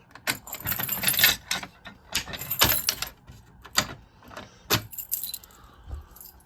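Close metallic jangling of keys while a fire alarm pull station is reset, coming in several clustered bursts with brief pauses between them.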